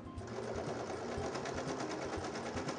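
Serger sewing machine stitching along a fabric strip, a steady rapid mechanical whirring that runs unbroken and close, with no talk over it.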